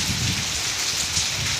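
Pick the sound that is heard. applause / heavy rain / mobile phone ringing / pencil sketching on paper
heavy rain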